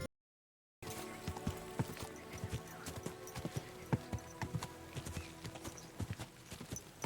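Horse hooves clop at a walking pace over a soft ambient background in the video game Kingdom Come: Deliverance II, starting after a moment of silence and continuing with uneven, moderately close steps.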